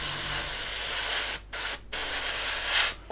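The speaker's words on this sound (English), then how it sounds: "spray, spray, spray" An airbrush or spray can hisses steadily while painting the cockpit of a scale model aircraft, with two short pauses between bursts and a final stop; close and continuous, with no talking.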